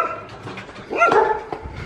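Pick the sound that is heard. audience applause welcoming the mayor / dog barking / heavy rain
dog barking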